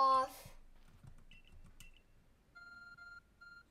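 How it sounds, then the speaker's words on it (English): The Arc Phone in the video game Pokemon Legends Arceus sounds a notification, a repeated series of short, clean electronic beeps in a steady rhythm, following softer game chimes and clicks, with no talk. "Wait, I got something on my arc phone."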